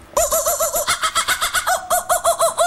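A strange chicken-like bird call in an imagined jungle, a loud, rapid train of repeated clucking notes close up and continuing steadily for the whole clip, with no talk over it.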